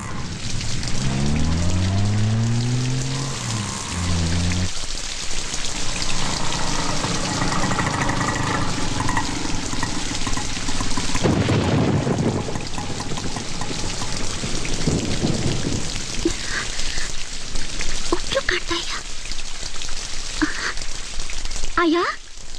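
Heavy rain pours down steadily in a Kannada film's climax scene, a dense wash of drops that runs throughout, with voices and other sounds heard over it at times.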